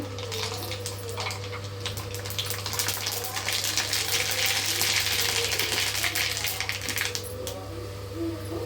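Mustard seeds crackle and pop in hot oil for a tomato chutney, a dense run of sharp little snaps over a steady low hum, growing busier through the middle before easing off.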